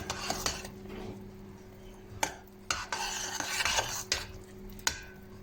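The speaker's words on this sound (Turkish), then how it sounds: "Şöyle bir kaynat karıştırayım" Boiling strawberry jam stirred in a pot, a utensil scraping and knocking against the metal in irregular strokes with sharp clinks over a bubbling simmer, close by.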